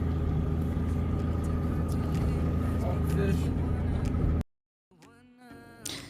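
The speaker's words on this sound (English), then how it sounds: "Now we're just kind of waiting to warm up the engine." A two-stroke boat motor idles while warming up on a lake, with a steady low rumble, loud and close, then cuts out abruptly, followed by a brief quiet and some faint movement sounds.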